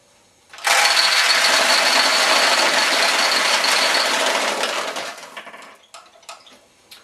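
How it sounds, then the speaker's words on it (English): Steel balls release from a Nishijin pachinko machine when its wire is pulled. They pour out in a loud, close, continuous metallic rattle for about five seconds, then thin out into scattered clinks. "You're just going to pull down on that wire there, and it'll release any balls that are above that point."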